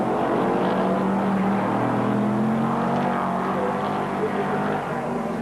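Sports sedans race at Sandown in 1981, several engines droning and whining at high revs with shifting pitch, loud and continuous beneath a race commentator's voice.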